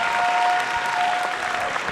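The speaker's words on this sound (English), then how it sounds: "Let's give them another big round of applause." Audience applause for an Illini Wushu martial arts performance at a Chinese New Year showcase, a dense, steady wash of many hands clapping close up, with no talk over it.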